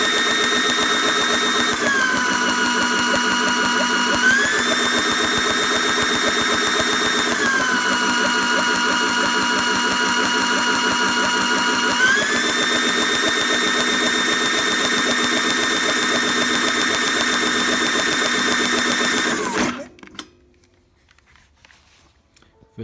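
A John Deere JS35 mower engine runs steadily and close during a spark test with a used coil, a buzzing mid-pitched drone that rises and falls in speed a few times before abruptly cutting off into near silence.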